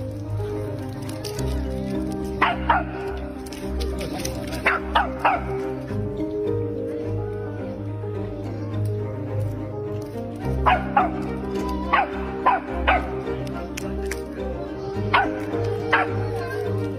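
Excited dog barking and yipping at a group of monkeys feeding beside a road, sharp barks arriving in irregular bursts over a low steady background hum, near and loud.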